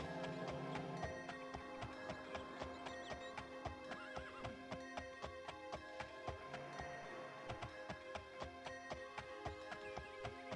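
A horse in the game Daggerfall Unity whinnies near the start, then its hooves clip-clop in a steady, even rhythm for several seconds, with a faint tone running underneath and no talking.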